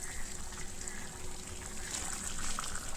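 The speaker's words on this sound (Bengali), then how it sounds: "আর দিয়ে দেবো একটু জল," Water pours steadily into a bowl of mutton curry marinade made with garlic paste, onion, salt and turmeric, a continuous close trickle and splash lasting about three seconds with no talking.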